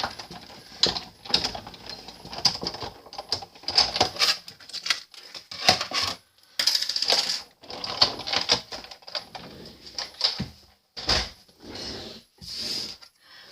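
A hand-cranked die-cutting machine feeds a card through in a run of close, uneven clicks and rattling bursts, separated by short quiet gaps, with no talk.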